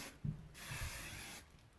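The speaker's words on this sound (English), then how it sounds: "So now we're just going to take that hairspray." Hairspray sprays onto styled hair in one soft, sustained hiss close by, preceded by faint rustling and handling sounds, with no talk.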